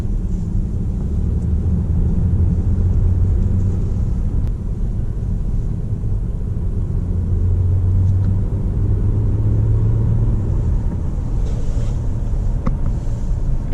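Mercedes-Benz E350 on the road, a steady low rumble of engine and tyres with wind noise, continuous and close from inside the cabin, no talk over it.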